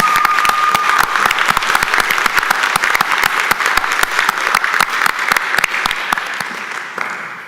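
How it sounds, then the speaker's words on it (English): Sustained audience applause in a county board of commissioners meeting room, dense steady clapping from many hands that carries on for several seconds before tapering off slightly at the end. "Let's give them another round of applause."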